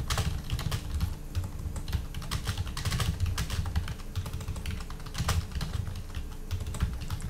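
Steady, fast typing on a computer keyboard, with dense clattering keystrokes in an uneven rhythm and occasional heavier key hits, close and continuous with no talking.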